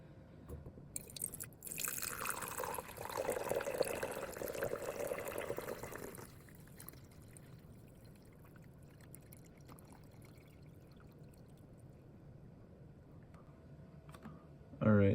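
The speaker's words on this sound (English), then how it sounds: "I'm going to try and pour off most of the water from the top, and discard that." Water being poured off a settled solid in a laboratory beaker, a liquid stream running for a few seconds near the start, then fading into quiet handling noise with a brief clatter at the end.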